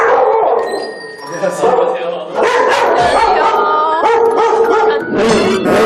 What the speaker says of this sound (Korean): 무섭게 짖어대며 입구를 막아선 범상치 않은 포스의 대형견이 한 마리도 아니고 무려 2마리